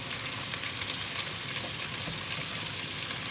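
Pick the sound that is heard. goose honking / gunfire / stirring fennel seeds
stirring fennel seeds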